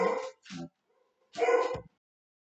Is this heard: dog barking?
yes